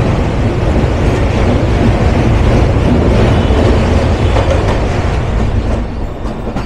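The 12331 Himgiri Express crosses a bridge over the Ganges near Kashi with a loud, continuous rumble and rattle of rail cars, a rhythmic clatter of wheels that eases slightly toward the end. No voices.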